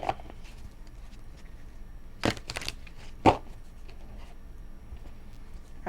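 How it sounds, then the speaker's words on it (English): A deck of cards is shuffled in a quiet room, with a couple of brief, crisp riffling bursts standing out from soft handling noise. No one speaks. "let me shuffle these cards up"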